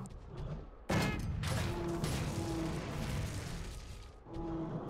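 Light bowgun shots firing in Monster Hunter 3 Ultimate, a loud booming blast followed by dense rumbling gunfire and mechanical noise, with another burst near the end.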